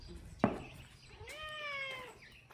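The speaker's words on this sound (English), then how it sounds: "I didn't realize there was a cat right underneath my feet." A cat lets out one drawn-out meow in a horse barn, fairly close and soft, shortly after a brief sharp knock; no talking.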